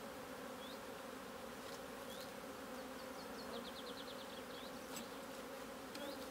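Honeybees shaken off frames into a box in an apiary during queen cell building, a steady, dense buzz from many bees close by, with a few brief chirps of birds in the background.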